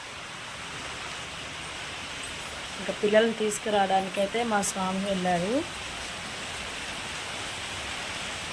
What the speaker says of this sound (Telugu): బయట వర్షం చూపిస్తాను మీకు.